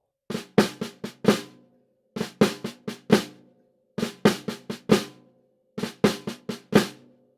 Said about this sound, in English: flammer Q sounds like this.